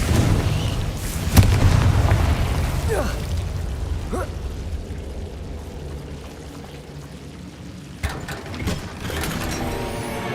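A Confringo explosive spell blast in Hogwarts Legacy, a loud boom followed by a rumbling, crackling decay, with a few sharp impacts and a later hit under steady game ambience.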